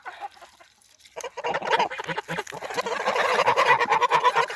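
A pet goose in a backyard poultry yard honks and cackles repeatedly, the calls growing louder and more continuous after a brief quiet start, close to the listener.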